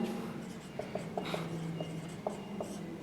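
Chalk taps and scrapes on a board during a class 10 maths lecture, a quiet run of short strokes spaced unevenly over a few seconds, with faint room noise behind.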